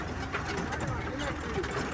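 A tractor engine runs during sand loading, giving a steady, close mechanical rumble with a rattling texture while people talk over it.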